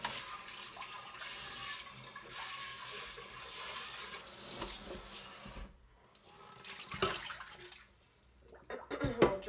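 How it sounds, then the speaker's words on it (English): Water runs from a faucet into a sink, rinsing out a stainless Instant Pot inner pot after a vinegar scrub; a steady splashing stream that cuts off partway, then returns in short bursts with clatter of the pot. "I'm going to rinse it out."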